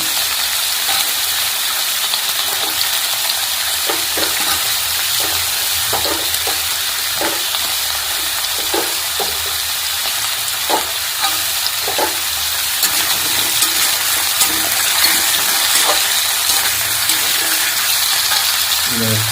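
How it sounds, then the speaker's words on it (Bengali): Potatoes and carrots stir-frying in a pan for a Bengali mixed vegetable dish, a steady loud sizzle with repeated light scrapes and clicks of a spatula turning the vegetables. "এবারে গাজরগুলো দিয়ে দিচ্ছি, আলু গাজর নেড়ে দিন।"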